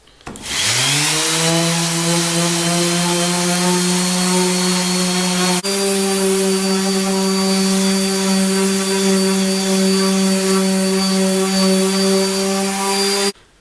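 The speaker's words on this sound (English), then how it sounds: "I'm gonna make it all nice and smooth with sanding" Wood being sanded smooth, worked through 60 then 120 grit, with a powered sander's steady, loud motor drone running continuously after a quick spin-up and holding nearly level throughout.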